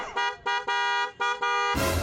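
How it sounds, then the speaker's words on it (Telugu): An auto rickshaw horn honks in several loud, close, sustained blasts separated by short gaps, with no talking over it. "ఆటో కూడా హారన్ కొడుతున్నట్టున్నాడు."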